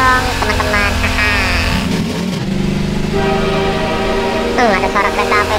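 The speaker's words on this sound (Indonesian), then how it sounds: "Ada suara kereta apa itu?" Train in the video game Half-Life 2: a loud, continuous mechanical rumble and drone with shifting tones, steady throughout and dense with other layered game sounds.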